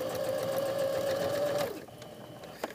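A sewing machine stitches a welt pocket on a jacket, running with a steady whirring hum for about a second and a half before it stops, leaving a quiet click afterward.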